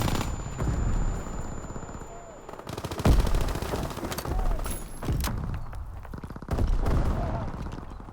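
Gunfire in Call of Duty: WWII, with bursts of automatic weapon fire and sharp single shots, some loud and close, others more distant, over ongoing game ambience with brief loud booms.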